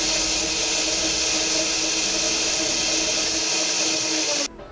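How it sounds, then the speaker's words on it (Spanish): Kitchen blender running steadily on boiled chiles and sauce ingredients, a loud, continuous whirring roar that holds for about four seconds before cutting off abruptly. "Lo vamos a licuar."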